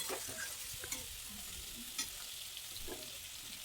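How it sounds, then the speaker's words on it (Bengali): Mutton mince ghugni stirred in a pan, a faint steady sizzle with soft scraping strokes and an occasional light clink. "দিয়ে ভালো করে নাড়াতে থাকবো এইভাবেই কিন্তু পুরোটা হবে"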